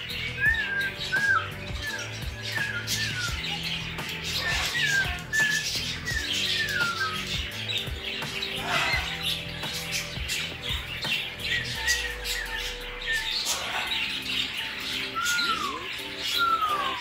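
A Moluccan cockatoo squawks loudly and repeatedly at close range in an indoor room, with harsh calls and shrill whistle-like notes recurring across the whole stretch and a low hum underneath.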